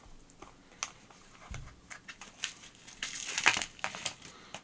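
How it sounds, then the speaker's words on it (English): Tape being pulled and peeled off an AliExpress mail parcel holding a small TFT screen, a run of crinkly tearing and rasping bursts that grows louder midway, close and alone with no talk. "Try and get that tape off."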